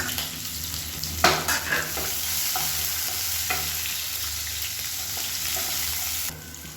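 Chopped shallots and garlic saute in hot oil in a pan, a steady close sizzle with a few scraping stir strokes near the start, cutting off just before the end.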